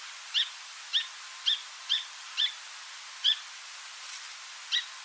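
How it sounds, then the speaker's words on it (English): Song sparrow singing alone outdoors: a series of about eight short, clear, high notes spaced evenly at roughly half-second intervals, moderately near, with faint background hiss and no talking. "This is the sound of a song sparrow."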